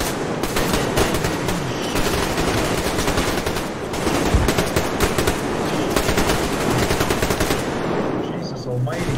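Continuous rapid automatic gunfire in the Survarium video game, loud and dense for the whole stretch, with faint voices underneath.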